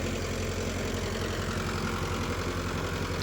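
A tractor engine runs while ploughing a field, a loud, steady, unbroken low mechanical drone with an even throbbing pulse and no voices.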